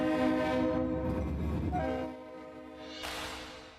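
Freight locomotive on tracks in Louisville sounding a loud, sustained multi-tone horn while rumbling past, then the horn fades to a lower rail roar before a brief hiss-like burst.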